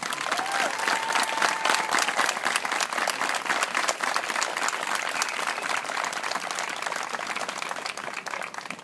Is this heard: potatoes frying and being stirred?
no